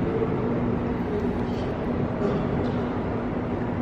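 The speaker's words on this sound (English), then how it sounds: "There's our train, 5 a.m. Shoreline East to New London." A Shoreline East commuter train at New Haven station rumbles steadily nearby with a faint tonal hum, a continuous mechanical drone without clear voices.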